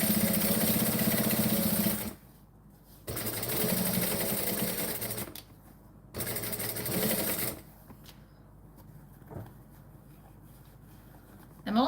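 A sewing machine top stitching the edging of a jacket, running in several loud, steady bursts separated by short pauses, with a quieter stretch of faint handling near the end.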